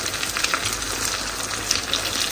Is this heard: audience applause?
no